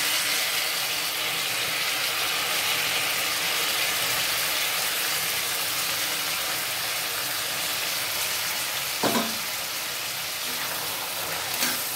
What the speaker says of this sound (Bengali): এই বাসমতি চালটা ভালো করে ভেজে নেবো।